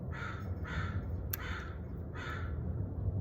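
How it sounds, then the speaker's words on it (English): A crow caws four times in an evenly spaced series, harsh and fairly clear, over a soft steady background hiss. "The unknown appearing as a crow. Caw, caw, caw."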